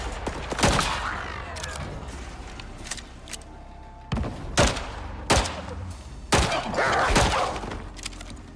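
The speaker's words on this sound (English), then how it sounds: "And all that gunfire is also attracting, like, a horde." Gunfire in the survival video game Icarus, with a Raptor and a drone nearby: sharp, loud shots in scattered single bursts and short volleys over a low rumbling background, with quiet gaps between clusters.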